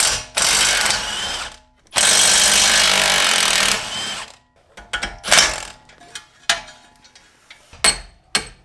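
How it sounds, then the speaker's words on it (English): An impact wrench hammers a 19mm nut on the suspension of a VA Subaru WRX with the FA20 engine: two long, loud, rattling bursts, then a string of short, choppy blips and pauses. "You want to use the impact on the nut side so that you don't spin the crap out of your eccentric."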